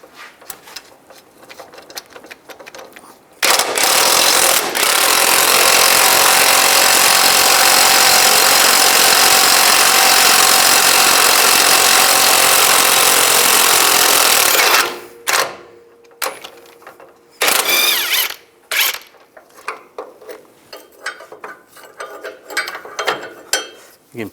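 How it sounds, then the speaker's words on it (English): A power ratchet or impact tool buzzes loudly and continuously for about ten seconds while loosening a nut on a 2005-15 Nissan Xterra suspension bolt, followed by short clanking metal handling sounds. "Take the nut off."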